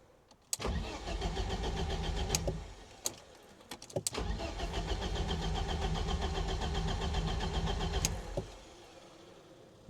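A BMW E30's engine is cranked by the starter in long, loud, steady whirring bursts close by, broken by brief clicks and pauses before it cuts off near the end, without voices.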